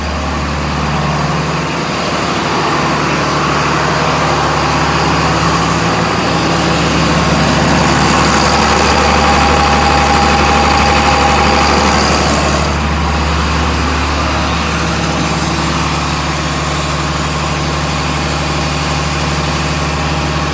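A John Deere 4755 Powershift tractor engine idles while its oil warms up, a loud, steady low diesel drone that holds an even note throughout with no talking.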